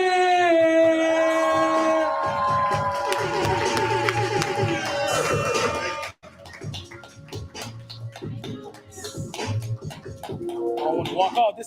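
A commencement audience cheers, whoops and claps loudly for a poet named Durant. The noise breaks off sharply about halfway through, then resumes in a rougher, patchier burst, with voices mixed in.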